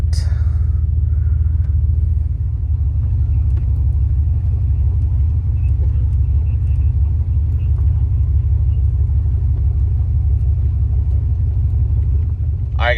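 Trucks being driven to a nearer parking spot at an October car show in Minnesota, a close, steady low engine rumble that holds for the whole stretch.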